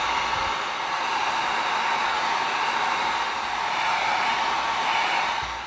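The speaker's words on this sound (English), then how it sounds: "now we're gonna come in with our heat gun because we created some raw foam here" A heat gun blows hot air steadily over raw EVA foam to seal it, a loud, continuous broadband whoosh with no breaks, easing off slightly at the very end.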